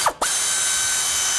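A socket ratchet clicks steadily as it backs out 10 mm bolts during clutch replacement on a 2006-2011 Honda Civic. After a brief scrape, the fast, even metallic ticking runs on close and loud.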